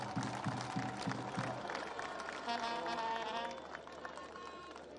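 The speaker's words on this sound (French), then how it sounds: "Applaudissements, s'il vous plaît." A crowd claps as President Félix Tshisekedi arrives in Kananga for an inauguration, a dense, even wash of applause with a voice calling out at the start and a chanting voice rising over it midway.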